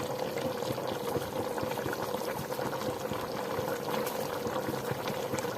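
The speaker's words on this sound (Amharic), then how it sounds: "እንደዚህ ሲፈላ መኮረኒ ጨምራለሁ።" A pot of water rolls at a steady boil as macaroni goes in, giving a continuous bubbling, hissing wash that stays even and close from start to finish.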